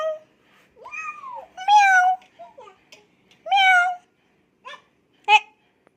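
A voice imitates a cat, giving several drawn-out meows with pauses between them, close and fairly loud, mixed with a few short babbling sounds.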